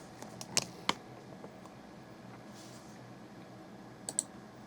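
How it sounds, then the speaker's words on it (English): A computer mouse clicking during a Windows installation, a few sharp quiet clicks spaced apart over faint room hum, with no talk. "I'm going to click next."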